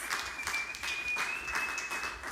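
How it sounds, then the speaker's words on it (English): Faint, steady applause from a church congregation for the women of the church during a Sunday service, dense scattered clapping with a thin sustained tone running beneath. "Let's give our women here a round of applause."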